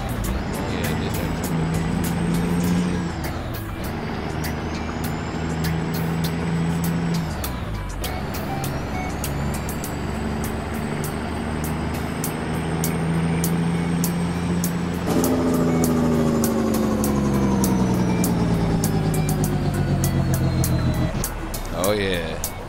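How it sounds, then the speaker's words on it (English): A Peterbilt 389 truck engine in American Truck Simulator drones loud and near, rising in pitch as it revs through the gears with brief drops between shifts, while people talk over it. "Oh yeah, sounds like a Peterbilt."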